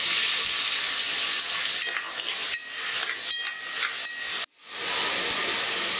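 Onions sauté lightly in ghee in a pan for Tamil-style ghee rice, a loud, steady close sizzle broken by spatula scrapes and taps, then a brief drop to near silence before the frying returns.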